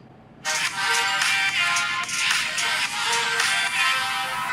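Music streams from a YouTube video playing on a phone, a steady, continuous tune running at even volume throughout with no talking over it.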